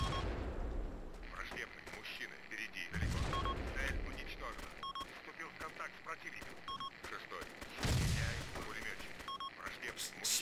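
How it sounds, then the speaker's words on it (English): Gunfire and explosions in the video game Arma 2 boom in bursts, with heavy blasts every few seconds over a chaotic background that includes voices. "Explosions going on everywhere."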